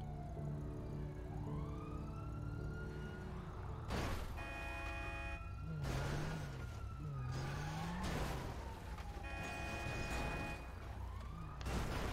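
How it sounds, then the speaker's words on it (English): A police siren wails in the video game GTA V, its rising and falling tone sweeping repeatedly alongside loud engine roar, tyre skids and game effects, with no talking. "I can hear a siren."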